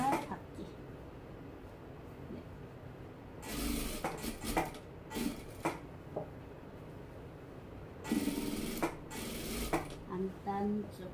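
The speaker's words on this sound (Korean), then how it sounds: "박을 수 있는 데서부터 모두가 박기" A sewing machine stitching a dress facing for an autumn dress, two short whirring runs of rapid stitching, each lasting about a second or two, separated by quiet handling noises at low overall level.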